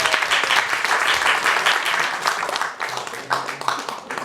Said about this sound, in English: Save the applause to the end